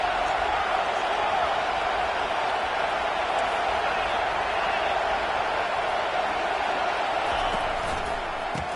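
Stadium crowd in the football video game 2K25 roars steadily through a third-down play, a dense, constant wash of cheering and noise with no breaks.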